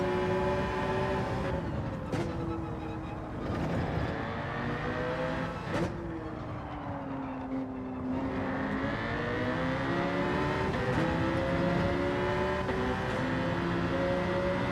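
Race car engine in the video game Gran Turismo 7 drones continuously, its pitch climbing and dropping through gear changes with brief tone shifts, loud and steady throughout.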